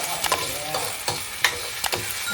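Field rat is stir-fried in boiling oil with aromatic seasonings for a spicy dish: a steady crackling sizzle is broken by sharp, rhythmic scrapes of a utensil stirring the pan, with no voices.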